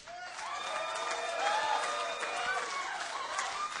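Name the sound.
studio audience clapping and cheering loudly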